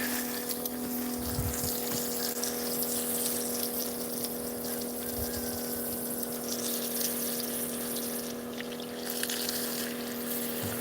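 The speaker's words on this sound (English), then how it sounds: "Sounds like that pump's gonna die in a little bit." A water pump on a homestead runs continuously with a steady, strained droning hum and a sound of water flowing, loud and unbroken throughout, as if the pump is close to failing.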